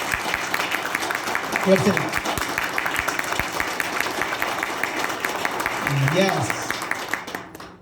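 An audience at a program in Hubli claps in a continuous wash of applause throughout, with a voice speaking briefly over it twice.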